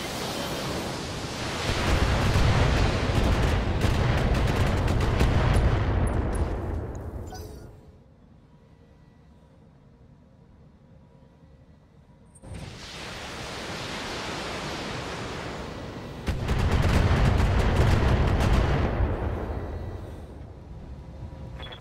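Assault mechs unleash all their weapons at once in the Battletech video game, a loud roaring barrage of blasts and rumbling fire that breaks off into a quiet lull, then surges back in a second heavy volley.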